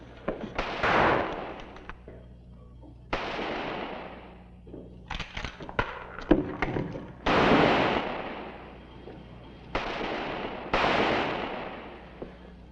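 Gunshots ring out in an old western TV siege scene, about six loud sharp blasts with echoing tails, spaced irregularly with a few smaller clatters between them.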